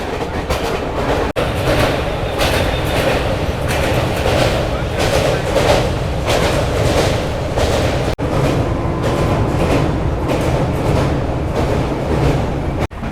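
The Darjeeling Mail passenger train rolls along with a loud, steady rumble and rhythmic clattering of the wagons, heard up close throughout.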